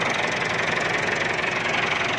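A 2017 model tractor engine runs close and loud, a steady idling rumble with a continuous knocking beat that holds unbroken throughout.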